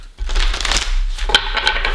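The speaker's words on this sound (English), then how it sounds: "Give you a couple shuffles here on camera" A deck of Next World Tarot cards is shuffled up close, a brisk riffling flutter lasting about two seconds with a couple of sharper snaps of card against card.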